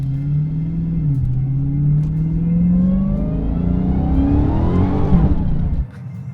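A 2021 Dodge Charger Hellcat Redeye in track or sport mode on Pirelli tires accelerates hard, its loud, close engine roar climbing steadily in pitch for several seconds before abruptly dropping off near the end.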